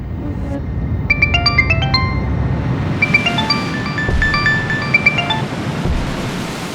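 A mobile phone rings with a bright electronic ringtone melody, playing in two bursts of repeated beeping notes over a steady background hiss in an indoor drama scene.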